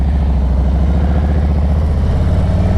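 A Harley-Davidson Road Glide Limited motorcycle engine runs at a loud, steady idle, its low, lumpy rumble pulsing evenly throughout.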